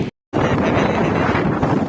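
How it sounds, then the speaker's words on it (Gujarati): Heavy wind off the sea buffets the microphone in a loud, continuous roar, with a brief dropout near the start; rain may be mixed into the broadband rush. "આપણે વરસાદ ચાલુ છે, પવન એટલો છે"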